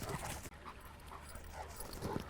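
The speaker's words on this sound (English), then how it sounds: "Here come the dogs." Dogs on a trail beside a mountain-bike path, giving a few short barks and panting sounds at moderate distance, with faint movement noise between them.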